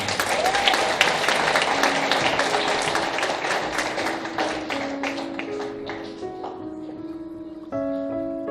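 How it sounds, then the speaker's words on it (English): An audience at a moot court competition finals ceremony in Kenya applauds with dense, steady clapping that slowly thins and fades out. "A round of applause for the"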